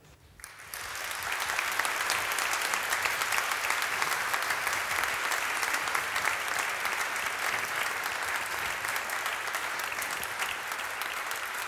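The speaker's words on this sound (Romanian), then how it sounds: "aplauze" Concert audience applauding, building quickly into sustained, dense clapping from a large crowd that continues steadily for about ten seconds without easing off.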